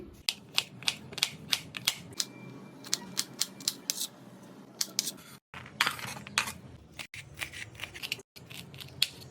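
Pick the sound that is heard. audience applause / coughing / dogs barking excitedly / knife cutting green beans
knife cutting green beans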